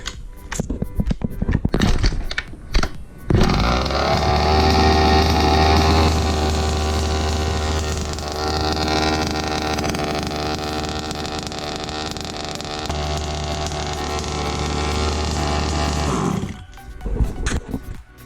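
A Rovan 30.5cc two-stroke engine idles in a Baja 5B RC car, buzzing steadily and close for about thirteen seconds with slight shifts in pitch, between short stretches of handling noise at the start and end.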